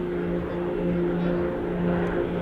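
A Blades aerobatic team formation of propeller aircraft passes overhead at an air show, giving a steady, loud engine drone with a sustained low hum throughout.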